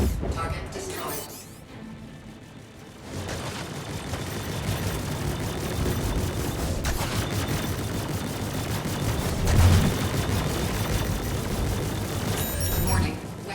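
Spaceship weapons fire in rapid, dense bursts during a Star Citizen dogfight, a loud continuous barrage with booming impacts and mechanical clatter, with a synthetic voice giving announcements at times.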